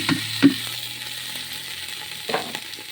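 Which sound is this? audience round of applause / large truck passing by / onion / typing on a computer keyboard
onion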